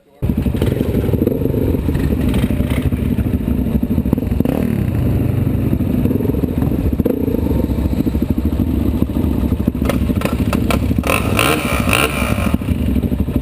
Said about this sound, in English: Probably a mean ass bike.